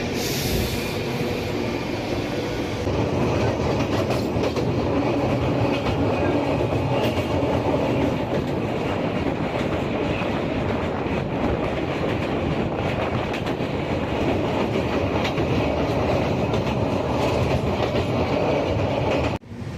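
The Garib Rath train from Chennai to Delhi runs on its rails in heavy winter fog, a loud, unbroken rumble with rhythmic clickety-clack of wheels that holds steady for about twenty seconds.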